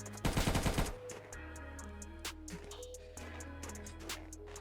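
Rapid automatic gunfire bursts out in a Minecraft survival game, a loud rattling volley for about a second, then fades into a low steady hum with scattered faint clicks.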